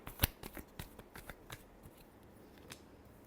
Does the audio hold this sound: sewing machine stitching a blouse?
no